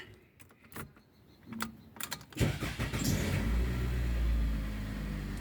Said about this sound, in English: started the car